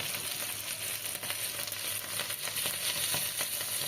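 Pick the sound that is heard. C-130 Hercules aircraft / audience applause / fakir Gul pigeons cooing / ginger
ginger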